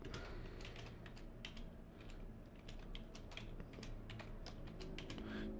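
Rapid, uneven clicking of fingers typing on a computer keyboard, close and steady throughout with no talking.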